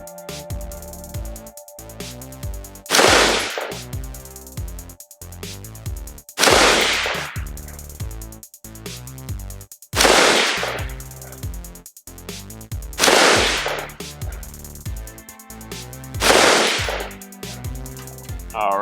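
Bravo Company Mk12 SPR rifle firing Black Hills 5.56 rounds: five loud, sharp single shots spaced about three seconds apart, each with a short ringing decay, over background music.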